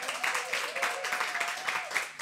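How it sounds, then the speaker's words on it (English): Audience applause for a guest at the close of a chat interview, short, lively clapping that runs continuously under a voice speaking over it. "Big round of applause for Geraldine"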